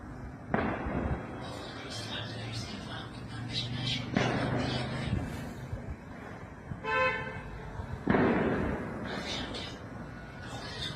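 Air defense missiles from live-fire exercises over Tehran boom in three sharp, heavy blasts a few seconds apart, set against city noise with car horns tooting and voices in the background.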